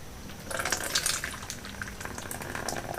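Water flows and trickles through the radiator of a Yamaha YZ450 dirt bike during reassembly, a close, steady splashing and dripping with brief louder gurgles, no talking.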